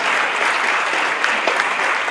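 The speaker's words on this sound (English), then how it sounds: "Let's give them a big round of applause." Steady, dense audience applause honoring food-bank volunteers at a community gathering, loud and sustained throughout with no talking over it.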